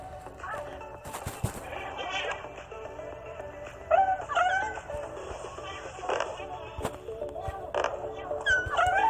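Small dog-like yelps and whimpers from the Crossy Road video game play over a busy, faint bed of game effects, with a few sharp clicks mixed in.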